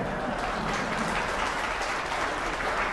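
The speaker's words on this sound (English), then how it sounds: "I never thought I would get a round of applause for a completed YouTube video" A steady wash of applause from a crowd, dense and continuous without a break, fairly loud and close.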